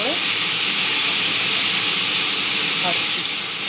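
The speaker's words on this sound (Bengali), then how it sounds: "কড়াইয়ে তেল গরম হয়ে যাওয়ার পর কাঁচা লঙ্কা ও কালো জিরে ফোড়ন দিয়ে গ্রেট করা পেঁপেটা" Grated half-ripe papaya fries in hot oil in a wok with green chili and nigella seeds, giving a loud, steady hiss and sizzle that runs unbroken throughout.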